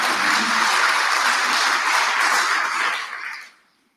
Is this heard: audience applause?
yes